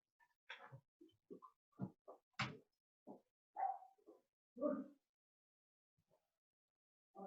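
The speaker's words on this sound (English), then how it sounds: "And of course you're going to bark." Dogs barking in short separate woofs and yips, a dozen or so irregular barks spaced over several seconds, fairly close with no talking.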